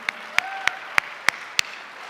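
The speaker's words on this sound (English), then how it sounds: "But give her a round of applause, everybody." Six sharp, evenly spaced claps ring out slowly and distinctly over quiet room tone at a business event, sounding like a few hands rather than full applause.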